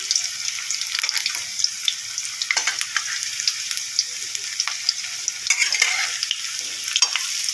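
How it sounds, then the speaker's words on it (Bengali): Chira pakoda made from gram flour, crushed flattened rice, green chilli and raw onion fries in hot oil, a bright continuous sizzle with crackling pops and occasional stirring scrapes, close and loud, no voices. "এর মধ্যে শুধু বেসন দিয়েছি আর চিড়ে গুঁড়ো করে দিয়েছি, কাঁচা লঙ্কা, কাঁচা পেঁয়াজ দিয়ে ভাজা করছি"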